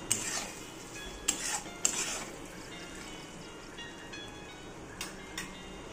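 Cluster bean sabzi seasoned with Maggi masala is mixed in a pan, metal spoon clinking and scraping against the pan in a few distinct strokes over a low steady background hiss.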